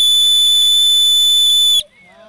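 A radio-controlled model steam tugboat's whistle blows loud, steady and high-pitched for under two seconds, then stops abruptly, followed by faint voices and background noise.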